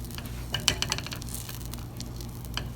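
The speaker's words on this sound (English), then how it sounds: "We're just going to melt our butter." Butter melting in a hot pan, a steady low sizzle and frying hiss with a few small pops and soft stirring scrapes, close and continuous with no talk.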